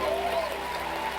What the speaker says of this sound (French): Let's give Jesus the biggest hand of the morning.